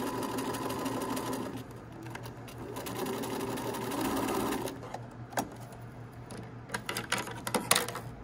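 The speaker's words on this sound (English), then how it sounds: "I'm just gonna backstitch when I reach that" A sewing machine backstitches around a sleeve band, its needle running in steady mechanical bursts for several seconds, then breaking into shorter start-stop stitches toward the end. No one speaks over it.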